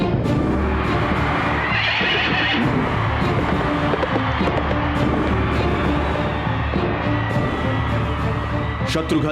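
The Ashvamedha horse of an animated Ramayana film neighs loudly, with one whinny standing out near the start over a dense, loud soundtrack of music and crowd-like noise.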